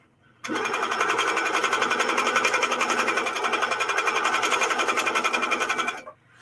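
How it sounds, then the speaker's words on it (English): A sewing machine stitches meandering quilting through a wool-batted quilt, a close, fast and even mechanical whir that runs steadily for about five seconds and then stops, with no other sound. "I want to stitch meandering in the inside and then the outside so that the feather really pops out."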